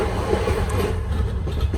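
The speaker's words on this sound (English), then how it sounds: "There's a train passing by." A train rolls past outside a window in Russia, a steady loud rumble with a broad low roar and faint rhythmic rail clatter filling the whole stretch, no voices.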